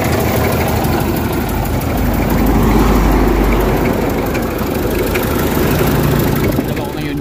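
Car engine idling with a steady low rumble and rattling vibration, loud and close, running continuously throughout.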